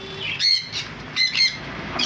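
Yellow-sided conures in a bird shop give loud, shrill chirps in short close bursts, several calls overlapping within about two seconds.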